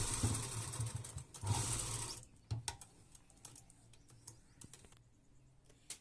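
A sewing machine stitches lace onto a kameez in one close, rapid whirring run of about two seconds, followed by scattered light clicks and fabric handling sounds, with no talk.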